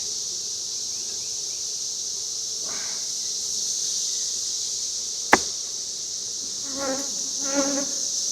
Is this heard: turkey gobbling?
no